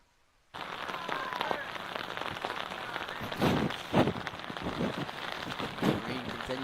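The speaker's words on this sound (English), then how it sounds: "Rain continues to fall here in Panama City Beach." Steady rain falls on an outdoor football field at Panama City Beach during a 7v7 championship game, a dense, even hiss that holds throughout with a few louder gusts of patter.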